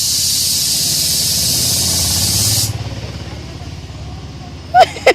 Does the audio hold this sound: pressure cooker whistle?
yes